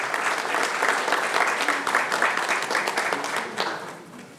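Audience applause at a book launch event, a dense burst of clapping from the crowd that holds steady for several seconds and then fades out toward the end.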